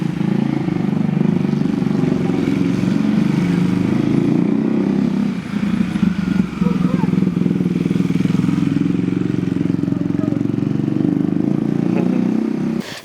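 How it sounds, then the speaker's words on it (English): Steady engine drone from a 390cc motorcycle during a ride, loud and continuous throughout with constant wind noise and no speech. "managed to give me a ride on his bike"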